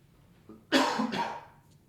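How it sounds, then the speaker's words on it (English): A single close, harsh cough, two quick bursts in a row, then quiet. "Picked up a slight little cough that seems to be going around"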